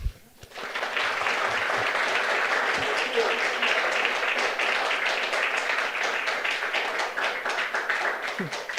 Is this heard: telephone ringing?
no